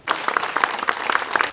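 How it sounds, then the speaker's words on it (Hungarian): Fans applaud Molnár Piroska at a handprint monument unveiling ceremony in Zamárdi, a steady crowd clapping with scattered louder claps throughout, moderately near and filling the whole moment. "Tapssal fogadták a rajongók a színház és filmkedvelők Molnár Piroskát Zamárdiban"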